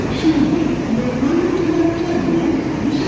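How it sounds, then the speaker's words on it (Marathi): An Indian Railways locomotive hauling two coaches rumbles steadily through Pune Junction station, a continuous mid-distance rail drone under platform ambience. "बघू शकताय भारतीय रेल्वेचं इंजिन आणि त्याला एक डबा"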